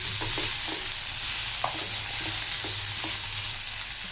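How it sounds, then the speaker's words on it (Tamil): Tomatoes sautéing with onions in a hot pan for potato poriyal, a steady loud sizzle with occasional scraping stirs, close up and without speech. "தக்காளியும் போட்டு நல்லா வதக்கிடலாம்"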